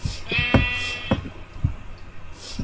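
Sheep in Minecraft bleat in short, wavering calls, several spaced bursts at moderate loudness with no talk over them.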